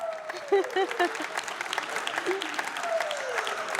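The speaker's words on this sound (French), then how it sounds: "oui, ça s'applaudit" Live audience at a televised African entrepreneurship competition finale applauds, clapping heard under a presenter's continuing speech, with the clapping surging in places.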